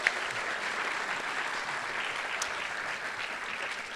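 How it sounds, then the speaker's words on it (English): Steady applause from a crowd at a 2019 senior awards night greets an art award recipient, many hands clapping evenly at moderate volume throughout, without voices. "Give her a round of applause."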